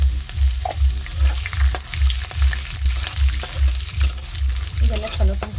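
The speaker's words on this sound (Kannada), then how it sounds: "ಸಾಸಿವೆ ಹಾಕ್ತೇನೆ ಸ್ವಲ್ಪ, ಆಮೇಲೆ ಸ್ವಲ್ಪ ಜೀರಿಗೆ ಹಾಕೋತೇನೆ. ಅದೆರಡು ಫ್ರೈ ಆದಮೇಲೆ" Peanuts, mustard seeds and cumin frying in hot oil, a close crackling sizzle under a regular pulsing rhythm of stirring, with a faint voice near the end.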